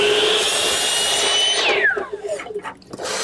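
A woodworking power saw cuts 12.5-degree angled ends on a wood piece for a wine storage unit, a steady loud cutting roar that gives way to a descending whine as the blade spins down.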